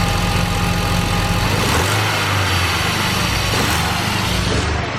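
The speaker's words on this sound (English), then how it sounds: "Give it a tiny rev." An engine idles close by with a steady, slightly rough drone, briefly rising in a small rev before settling back.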